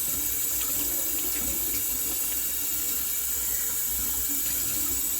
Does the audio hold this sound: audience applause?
no